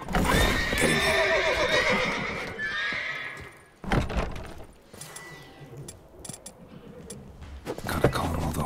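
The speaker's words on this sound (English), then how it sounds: "Gotta calm all the horses before they wake the guards." Horses neigh and whinny loudly in The Witcher 3 video game, several calls overlapping with hoof clip-clop, over a busy game soundscape with speech-like voices in the mix.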